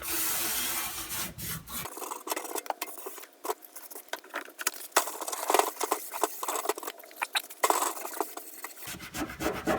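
Rapid scrubbing of grime off an old Craftsman toolbox, a brisk irregular scratching and rubbing of a brush or pad on the metal surface, close and continuous with brief pauses.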